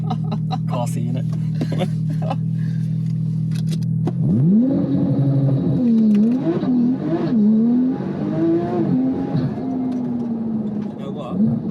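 Car fitted with an upgraded limited-slip differential accelerating hard: a steady idle gives way to loud, rising engine revs with several dips as the gears change.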